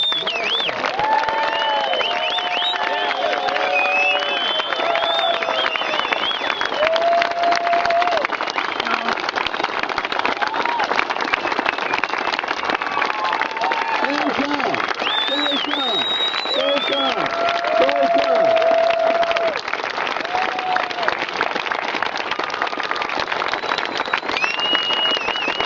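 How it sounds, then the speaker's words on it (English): Crowd applause and scattered cheering at an oceanside celebration of life and paddle-out at Ocean Beach, sustained and dense for the whole stretch, with voices mixed in. "have everybody do an amazing round of applause to John Case"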